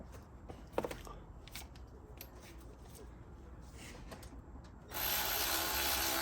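A ratchet working on the tensioner bolt of a 2011 Mercedes C350, giving quiet, close clicking and mechanical rattles, with a steady broadband hiss coming in near the end.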